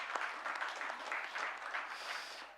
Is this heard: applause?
yes